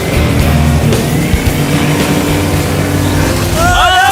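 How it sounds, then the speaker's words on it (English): A car doing donuts in water, a loud continuous engine roar with churning water and splashing throughout, close and steady, with a brief whoop-like voice near the end. "they're doing donuts in the water"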